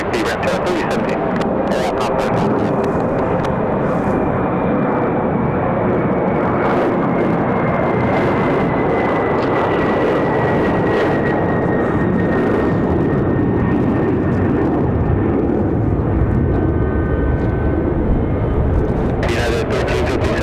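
An airplane arriving at Raleigh-Durham International Airport on a windy day, with a loud, steady jet engine roar that runs the whole time and a slowly falling whine on top, as the aircraft passes close by.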